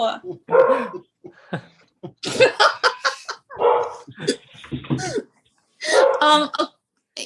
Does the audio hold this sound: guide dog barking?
yes